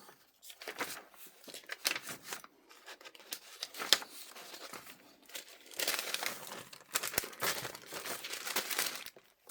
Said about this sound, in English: It's tissue paper.